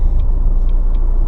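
Steady low engine rumble from a Jaguar X-Type with the 2.2 litre diesel engine and nearly 140,000 miles, heard from inside while driving, with continuous road noise and no talk.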